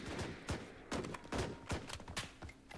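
Gunfire in the shooter game BRM5 crackles in a string of sharp shots, roughly one every half second, with a moderately loud, close feel and no talk over it.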